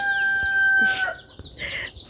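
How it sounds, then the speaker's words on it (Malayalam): Backyard chickens and a rooster: one loud, close crow followed by clucking and scattered short fowl calls. "ഇവിടെ എൻ്റെ അമ്മ കുറേ കോഴിയും കോഴി വളർത്തുന്നുണ്ട്"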